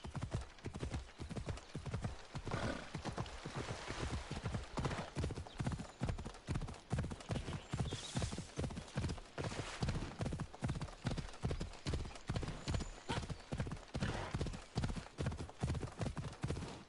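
Steady clip-clop of video game horse hooves trotting at a brisk, even rhythm, loud and close, continuing throughout with a brief whinny partway, played on PS4.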